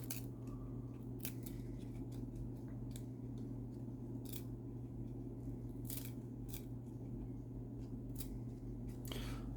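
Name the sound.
peeling apart stuck Topps 1999 baseball cards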